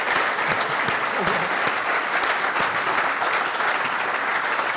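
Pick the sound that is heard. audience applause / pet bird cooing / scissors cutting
audience applause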